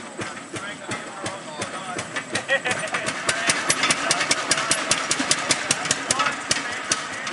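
A railroad track speeder runs along the rails on a ride at East Broad Top in Robertsdale, Pennsylvania, its small engine chugging in a steady fast rhythm with sharp rhythmic clicks building louder, close and continuous.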